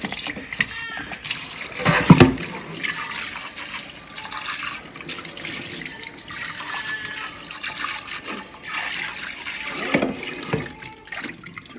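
Running water splashes in a Velosan pebble wok Dutch oven as it is rinsed, with uneven splashing and a louder burst near the start over constant tap flow.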